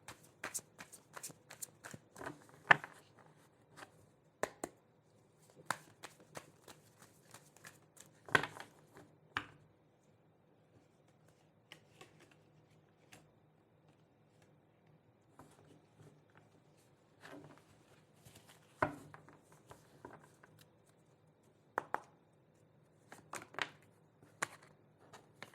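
Tarot cards shuffled by hand in quiet, irregular bursts of crisp riffling and slapping, with near-silent pauses between them and no voices.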